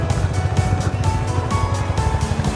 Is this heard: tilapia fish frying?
no